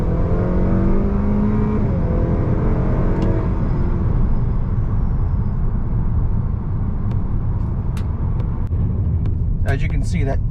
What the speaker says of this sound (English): The car is accelerating quite hard.